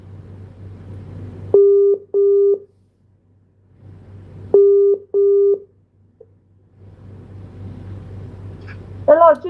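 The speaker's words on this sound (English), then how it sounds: "we are going to return the call right now" A phone returning a missed call gives two double-pulse ringback tones a few seconds apart over a low background hum, and a voice starts at the very end.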